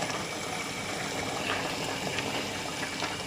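Liquid poured into a simmering potato curry, a steady, close bubbling and trickling wash that stays even throughout with no talk over it.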